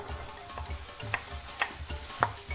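Onion and garlic sizzle in hot oil over medium heat for vegan Nigerian jollof rice, a soft steady fry punctuated by rhythmic spoon scrapes and light taps against the pan.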